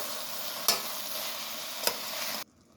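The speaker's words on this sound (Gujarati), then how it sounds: "હવે બધું આપણે મિક્સ કરી દઈશું." Toor beans, tomato, garlic and jaggery stirred together in a pan give a steady soft sizzle and scrape, with two brief louder clatters of the spoon before the sound cuts off.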